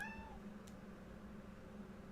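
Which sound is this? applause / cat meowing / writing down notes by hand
cat meowing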